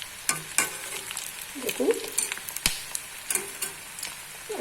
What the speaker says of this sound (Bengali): এভাবে আমি দেখুন উল্টো পাল্টে ভেজে নিচ্ছি।